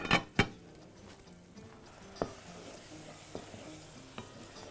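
Onions frying in a pan for an Egyptian dish, with a soft continuous sizzle punctuated by a few sharp clinks and scrapes of a utensil stirring against the pan.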